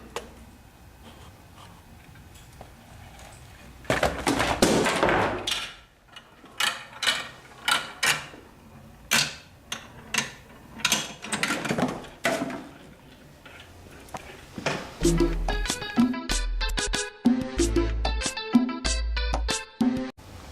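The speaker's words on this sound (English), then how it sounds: "It's time to see the machine in action." A demonstration Rube Goldberg machine runs through its chain reaction: a loud rattling rush, then a string of sharp clacks and ticks, ending in rapid clattering mechanical knocks and thumps, close and loud with no talk.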